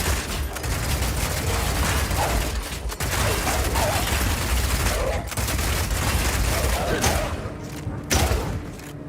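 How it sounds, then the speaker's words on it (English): Path of Exile 2 crossbow Rapid Shot fires in rapid succession while the character runs, dense bursts of thumping shots and impacts packed over game action with occasional brief gaps. "Rapid shot is great for closing on enemies because you can shoot while running."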